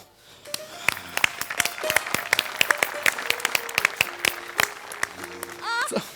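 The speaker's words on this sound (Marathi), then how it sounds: "म्हणजे एकदा जोरदार टाळ्या." An audience at a Marathi stage comedy show bursts into loud, sustained applause with dense clapping throughout, and a voice breaks in near the end.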